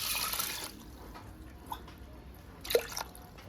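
Toor dal gets washed with water inside a pressure cooker: quiet splashes and drips, with a louder slosh near the start and a few scattered wet knocks later.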